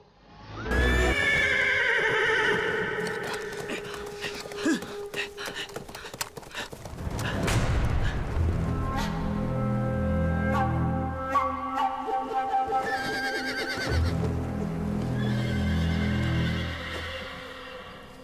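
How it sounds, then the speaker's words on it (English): A horse gives a loud, close whinny, then hooves clatter and more neighing follows in a tense dramatic scene where a horse and rider go over a cliff, with layered effects and no clear speech. "Prince Cao, I saw the Crown Prince and his horse fall off the cliff."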